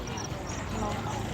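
Horses' hooves clip-clopping at a Maha Shivaratri festival ground, a busy patter of steps beneath someone talking and crowd noise.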